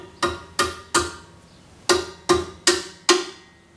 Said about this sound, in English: I am now going to replace the little metal slides here. Again, me and my trusty friend the hammer.